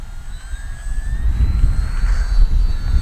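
An RC F8F Bearcat warbird model plane taxis with a tail-dragger stance on wide-set gear, its engine giving a steady near hum with a faint rising whine and no voices.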